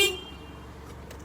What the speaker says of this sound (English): Horn still works.